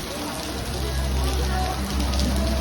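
Heavy tropical rain pouring in Fisherman's Village on Koh Samui, Thailand, a dense, steady roar of drops hitting nearby surfaces, loud and unbroken throughout.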